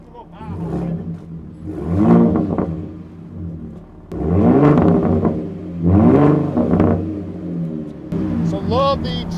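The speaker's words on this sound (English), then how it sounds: "So love the trombone style exhaust." Ford Raptor pickup with a trombone-style wrap exhaust revving in several rising, roaring pulls, loud and close, with a speaking voice at the start and end.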